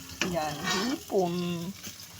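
Shrimp sautéing in a pan for pancit miki, bursts of sizzling and stirring while a voice talks over the frying in two stretches.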